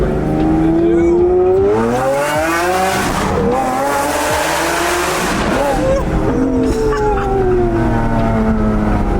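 A loud car engine revs up and down repeatedly under a bridge, its pitch rising and falling with a booming, echoing resonance close by.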